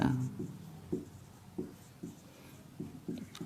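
Chalk or marker strokes on a board during a Hindi-medium chemistry lesson on chemical kinetics, a series of short, rhythmic scratching taps up close with a quiet voice underneath.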